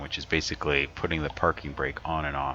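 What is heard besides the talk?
No distinct noise like a dog, phone or traffic.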